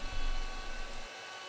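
A Shaper Origin handheld CNC router mills leg mortises 30.3 mm deep for a workshop stool, making a brief, steady, airy whirring hiss close by that eases off near the end.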